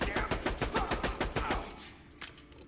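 A Vladof sniper rifle in Borderlands The Pre-Sequel fires in a rapid, loud burst of about a dozen evenly spaced shots. The shots then stop, leaving a ringing tail and one fainter sound near the end.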